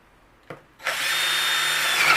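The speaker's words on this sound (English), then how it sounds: "So let's go ahead and drill one more hole here." A brief knock, then a power drill whirs up and runs steadily at high speed, close by and loud, drilling a hole while building an ammo box boom box.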